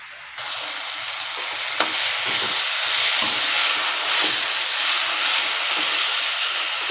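Tomatoes sautéing in a pan for South Indian vada curry, giving a steady, loud broadband sizzle and hiss with a few soft stirring scrapes, close up and without talk.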